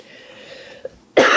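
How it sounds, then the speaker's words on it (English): A soft hum and a small click, then one sharp, loud cough bursts out at the end, close to the listener. "lately it's been hard to speak without coughing"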